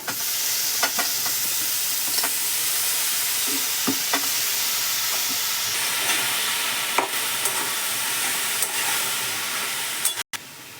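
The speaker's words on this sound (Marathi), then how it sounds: "बघा आपण इथे दोन मिनटं चांगली परतून घेतली" Spring onion greens sauté in a pan with turmeric, a continuous bright sizzle punctuated by occasional stirring scrapes and taps, close and even, with no talking.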